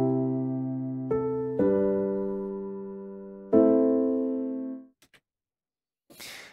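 Piano-like chords sound in sequence, each struck cleanly and left to decay, moving from one chord through a stepwise passing note to the next, followed by a few faint clicks and a soft noise at the end.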